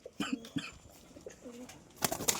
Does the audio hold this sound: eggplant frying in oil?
no